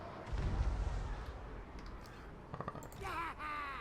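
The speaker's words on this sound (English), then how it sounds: "Here comes the flying cannons now." Flying cannons fire during a battle in Total War: Warhammer 2, a spread of sharp booming shots and clattering impacts over the game's rumbling battlefield noise, with a few brief short calls near the end.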